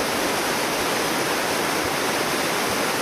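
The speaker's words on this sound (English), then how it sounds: "Water comes along here and drops over the edge there" Waterfall on the Leichhardt River, water pouring over a ledge in a dense, constant broadband roar that sounds close and loud, steady for the whole stretch with no voices.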